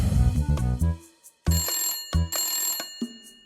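A cartoon telephone ringing in the Honey Bunny cartoon, loud, bright electronic rings repeating in several short bursts with brief gaps between them.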